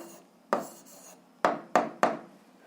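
A pen writes an algebra answer by hand, giving four short scratchy strokes, close and quiet, with soft pauses between them.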